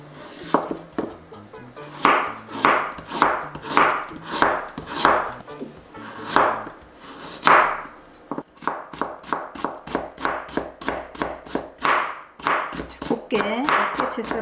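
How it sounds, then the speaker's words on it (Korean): A knife finely julienning 50 g of carrot on a cutting board, producing a steady run of crisp, close chopping taps, about two per second, with a brief pause midway before a quicker burst of cuts. "곱게 채 썰어줍니다."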